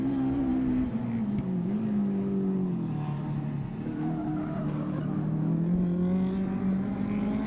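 Rallycross cars at Mondello Park, a Peugeot 206 battling a four-wheel-drive turbocharged Subaru Impreza, engines droning and shifting pitch continuously as they race past at moderate distance, with hints of tyre noise.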